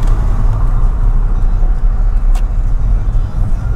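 A car cruises along a road on a group drive in Purbachal, a loud, steady low rumble of engine and tyres from inside the cabin, with traffic around and no voices.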